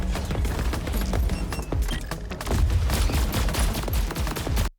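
Rapid gunfire from the video game Borderlands 4 at an enemy outpost, with sharp shots and bursts cracking in quick succession, loud and close, plus a few heavier booms, with no talking over it.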